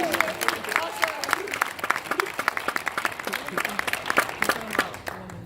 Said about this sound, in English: So, clap that.